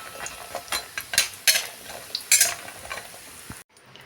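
Lentil dumplings (bori) frying in hot mustard oil in a kadai, a continuous sizzle broken by repeated scraping stirs and clinks of a spatula, close and moderately loud, ending abruptly.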